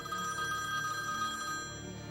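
A telephone rings continuously at moderate loudness with a steady electronic tone, heard alone without voices.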